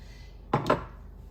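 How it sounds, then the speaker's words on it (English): Knife chopping fresh ginger into small cubes on a board, two quick close knocks in a row, sharp and crisp against a quiet kitchen background, with no talking. "we're going to just keep chopping"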